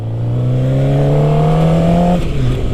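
Suzuki GSX-R 600 sport motorcycle engine revving hard while being ridden on a tight road, a loud steady rising drone held for about two seconds before the pitch drops off as the throttle eases.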